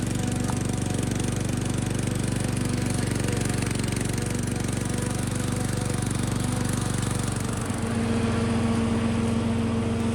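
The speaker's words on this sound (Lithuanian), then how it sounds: "nevibruoja, nedreba, žolę pjauna gražiai" Loud, steady engine drone of a ride-on lawn tractor mower cutting grass close by, its freshly repaired deck running smoothly, with a constant mechanical rattle and a slight change in pitch near the end.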